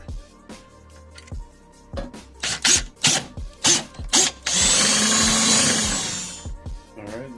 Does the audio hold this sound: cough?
no